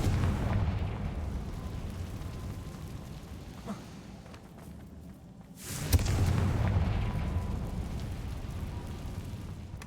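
A Confringo blasting spell bursts with a sharp boom in the Hogwarts Legacy video game, striking midway through a steady rumbling game soundscape, followed by a swelling low roar that lingers.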